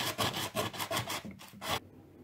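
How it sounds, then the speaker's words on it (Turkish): Coarse sandpaper rasping back and forth in steady strokes, close up, while sanding a cake dome for painting, then stopping into near silence. "şu kısmı daha kalın bir zımparayla ara ara zımpara yapıyorum"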